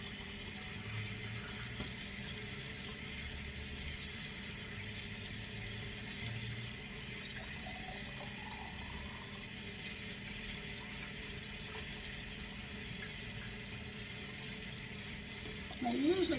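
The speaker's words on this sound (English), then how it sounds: "let me get the water in here. This is called actually baking them in a water bath." Water running steadily into a water bath for baking ginger crème brûlée, a constant close hiss and gurgle lasting over fifteen seconds, with a brief voice at the end.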